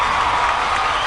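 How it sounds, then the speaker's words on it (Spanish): A crowd applauds steadily and loudly, with a little cheering, for the winner announced at the Barcelona Open Banc Sabadell tennis tournament; the dense clapping holds evenly throughout. "Un fuerte aplauso, chicos"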